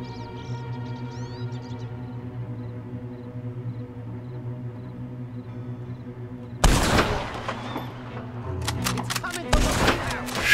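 Gunshots in Red Dead Redemption 2 erupt abruptly after a stretch of droning game ambience, a loud sharp volley followed by several more scattered cracks near the end.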